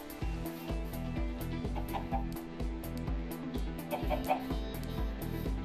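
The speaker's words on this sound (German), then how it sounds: "Hier ist ein Huhn" Minecraft chickens give a run of quick, repeated clucks over steady background game music, close by and fairly clear, with no voices.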